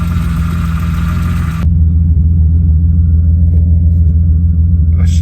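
A BMW E36 drift car with 190,000 miles idles steadily, its deep, even engine rumble loud and close throughout, with a brief brighter burst at the start that drops away and faint clicks near the end.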